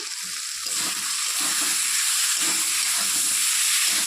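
Spice paste for a kalbaush fish curry with borkoli stems sizzles loudly in a hot pan, a steady bright hiss with faint stirring scrapes underneath and no talking.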